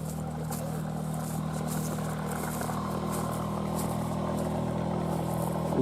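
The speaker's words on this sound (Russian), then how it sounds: "здесь моторка." A small motorboat engine running on a river, a steady low droning hum with a constant tone, moderately distant and continuous without breaks.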